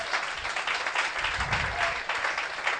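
A church congregation applauds the Lord, with steady, dense clapping from the whole crowd filling the room for the full length and a few voices faintly mixed in.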